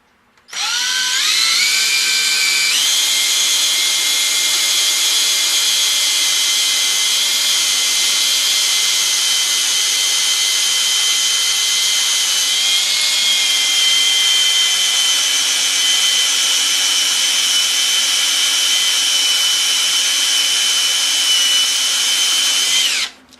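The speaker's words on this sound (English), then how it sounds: "And I'll drill into the bed." Power drill with a tapping drill bit boring into a metal lathe bed, a loud continuous high whine that steps up in pitch as it spins up and runs for about twenty seconds before stopping.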